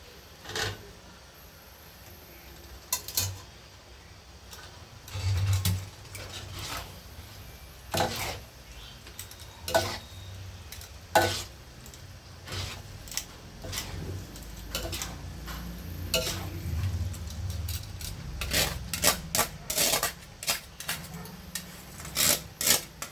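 Spaghetti pasta, one kilo, being stirred and mixed in a pan, repeated rubbing scrapes and knocks of a utensil at an irregular rhythm, close and moderately loud, with occasional quieter stretches.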